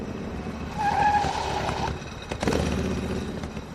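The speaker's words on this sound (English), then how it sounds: "Stuart stopped the bike by the side of the road." A motorbike skids to a stop, tires squealing over a steady engine rumble, followed by a short scraping burst.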